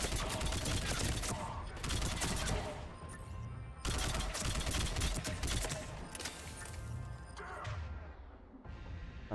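Rapid bursts of weapon fire in the video game Mass Effect 3, loud close volleys of shots in several clusters separated by brief lulls.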